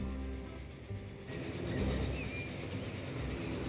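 A full passenger train running on rails in the game Transport Fever 2, a continuous rumbling roll with low mechanical hum that swells after a brief shift, steady and close with no talking.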